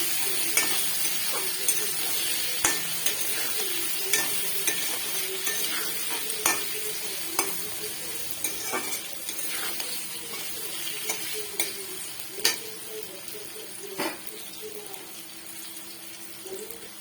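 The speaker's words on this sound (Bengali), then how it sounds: "এর মধ্যেও দিয়ে দেব অল্প একটু হলুদ গুঁড়ো আর লবণের গুঁড়ো। এটাকে আমি ভালো করে ভেজে নেব।" Prawns frying in oil with turmeric and salt for a pointed gourd and prawn dish, giving a steady low sizzle with scattered sharp pops and stirring clicks throughout, fairly quiet and with no talking.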